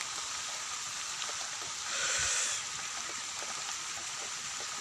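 Steady rain hisses down near a river beside a palm tree, an even, dense wash of falling drops that swells briefly midway, with no voices.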